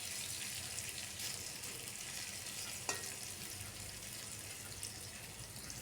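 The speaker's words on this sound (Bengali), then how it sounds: "বারবার নাড়িয়ে এগুলাকে একটু লাল করে ভেজে নিয়েছি।" Fish eggs stirred and fried in a pan over medium heat give a soft, continuous sizzle, with occasional clinks from stirring. The sound is faint and steady, with no voices.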